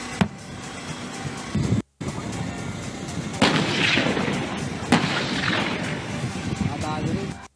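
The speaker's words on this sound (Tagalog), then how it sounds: "sunod-sunod naman na pinaputok ang light armored vehicles ng Philippine Marines at Philippine Army, kabilang na ang pinakabagong Sabra light tanks" Philippine Marines and Army light armored vehicles and new Sabra light tanks fire during a military drill, with heavy booming blasts and sharp reports at intervals, while a narrator talks over the gunfire throughout.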